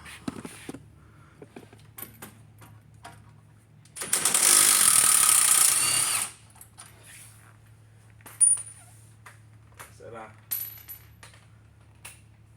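Ratchet clicking while hex head bolts are removed to pull the passenger side axle from a Honda EG coupe, with scattered metallic clicks and clanks around a two-second burst of loud whirring.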